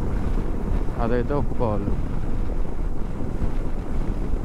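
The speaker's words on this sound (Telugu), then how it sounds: "విండ్ బ్లాస్ట్ అయితే చాలా ఎక్కువ ఉంది" Strong wind blasting against the microphone on a motorcycle ride through Andhra hill country; a continuous low roar runs throughout, with someone speaking briefly in the middle.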